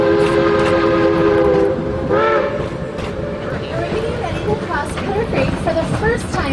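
Georgetown Loop Railroad train running, with a loud horn blast near the start and steady rolling rumble and clatter of the cars, while a voice talks over it.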